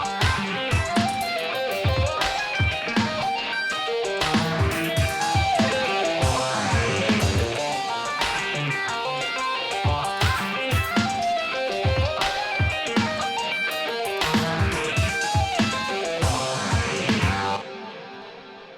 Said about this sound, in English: that triplet feel on top of the drum beat sounds like this